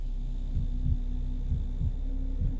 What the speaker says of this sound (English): Her heartbeat is fine